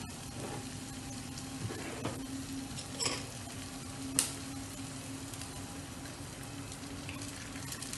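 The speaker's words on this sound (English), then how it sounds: "Now I'm going to crack the egg." An egg cracked into hot olive oil sizzles and crackles steadily in a frying pan, with a few louder pops and faint clicks of utensils over the continuous hiss.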